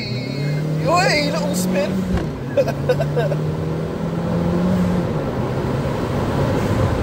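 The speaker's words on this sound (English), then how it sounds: "You do get a nice sound with this car" Engine of a Vauxhall Corsa VXR hums steadily from inside the moving car, a low drone that rises briefly and settles back, with a person speaking over it near the start.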